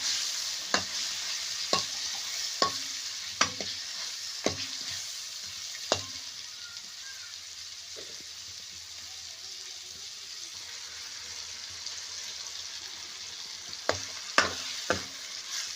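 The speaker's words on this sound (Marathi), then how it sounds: "आता कारले टाकलेले आहे व्यवस्थित आता तेलामध्ये हलून घ्यायचं आहे त्यांना" Bitter gourd pieces are stirred in hot oil, a low sizzle under a series of sharp, evenly spaced knocks and scrapes of a spoon against the pan, pausing midway before another quick burst of stirring.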